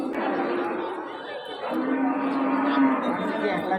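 Cattle at a crowded Eid livestock market in Bangladesh, with a drawn-out bovine low rising midway through the clip beneath busy crowd chatter and nearby voices.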